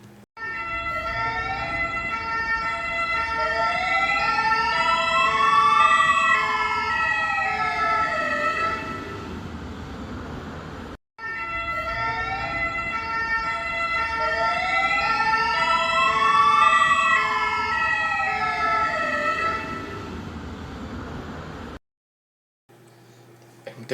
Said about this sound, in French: je mettrai un bruit de pompier dans le jeu